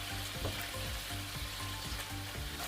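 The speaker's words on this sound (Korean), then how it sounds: "두부를 구운 팬에 편마늘을 넣고 구워주다가 양념 소스를 넣고 바글바글 끓여주세요." Sliced garlic and seasoning sauce sizzle and bubble steadily in a pan used for frying tofu, a close, continuous frying hiss with a few stirring scrapes and no talk.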